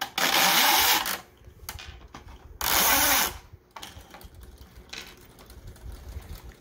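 A Spintronics toy's chain grinds over a piece of plastic in two loud, harsh bursts of about a second each, with quieter mechanical rattling between and after them; no one talks.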